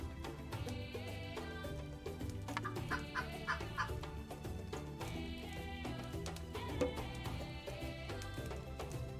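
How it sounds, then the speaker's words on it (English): Chickens cluck repeatedly in an early-access colony-building video game, with short bursts of clucks over layered game music and no talking. "There's chicken and sheep and all sorts of stuff here."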